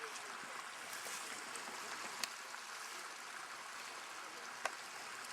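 Water washes down a narrow channel through terraced salt pans in the Peruvian hills, a continuous faint rushing and bubbling flow with a couple of tiny sharp ticks, no speech.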